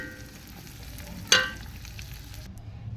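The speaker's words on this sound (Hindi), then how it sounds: "प्याज़ों में अच्छी तरह पकावांगे" Steady low sizzle of onions frying in a pan for chicken biryani, with a brief louder stirring scrape midway; no talking.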